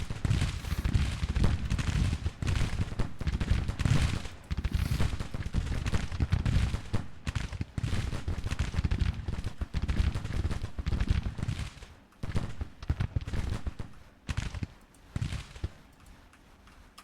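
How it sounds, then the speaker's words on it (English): Dense musket volleys crackle almost nonstop in the Civil War strategy game Grand Tactician: The Civil War, loud overlapping shots rolling like a fusillade, thinning into sparser bursts with brief gaps toward the end. "they emptied their 6 shots pretty quickly there"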